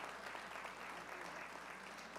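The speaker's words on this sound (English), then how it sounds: "we still should give a round of applause to J.R." A round of applause for a timekeeper at a Detroit Economic Club mayoral candidates event, steady dense clapping from the audience, faint and distant throughout.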